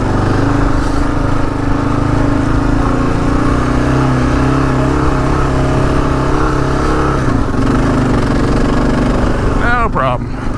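A Gen 3 Kawasaki KLR motorcycle ridden slowly through sand and ruts, its engine droning loudly and steadily at close range, with wind noise over it.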